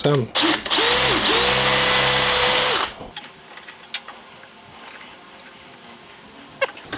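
A DeWalt DCD805 cordless impact drill bores into 6 mm steel with a pilot-point bit, whining loudly at steady speed for about two seconds before stopping, followed by quiet clicks and handling noises.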